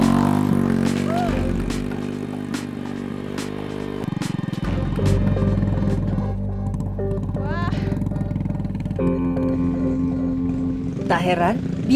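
An old, aging ojek motorcycle hauls more than 20 kilos of kolang-kaling in rural Cianjur, its engine droning steadily and fairly loud, shifting pitch as it strains along, with a voice talking over it.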